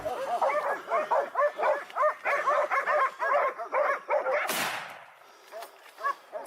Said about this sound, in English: The dogs played a crucial role, tracking, herding, and guiding the boars right into the hunter's sights.